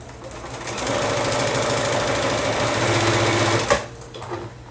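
Sewing machine stitching quilt pieces for a Hugs and Kisses quilt block, running in one steady, close, loud burst of rapid stitching for about three seconds before stopping with a small clunk.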